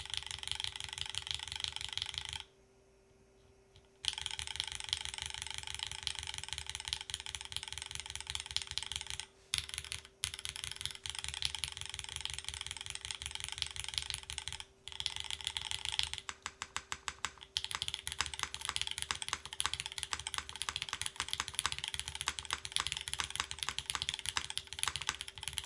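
Typing on a mechanical keyboard with MX orange switches, a stainless steel plate and no foam: a steady, close stream of clicky, clacky keystrokes with a few short pauses, no talking.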